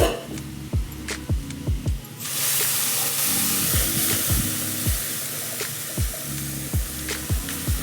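Ground masala paste hits hot oil with a sudden loud, steady sizzling hiss, while rhythmic metallic scrapes of stirring come through close up before and after.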